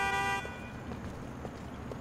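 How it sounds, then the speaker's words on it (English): Car horn honking in Grand Theft Auto: The Ballad of Gay Tony, a single short blast near the start, fairly loud, then fading into quiet game ambience. "Don't honk at me."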